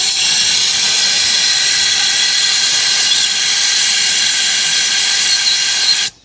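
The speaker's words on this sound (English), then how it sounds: "Let me try to blow some air in there now and see if I get something out of here." Compressed air hisses loudly and continuously through the A/C compressor lines of a Cadillac with a 472 engine, a steady close rush that cuts off abruptly at the end.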